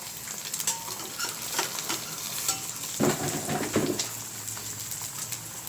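An egg fries in hot cooking oil, crackling and sizzling steadily throughout, with a few louder pops and spatters near the middle.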